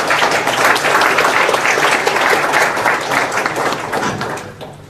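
Audience applause at the APCOSEC2013 keynote session welcoming speaker Dr. Takaaki Matsumoto, steady loud clapping from a large hall crowd that holds for several seconds and then tapers off.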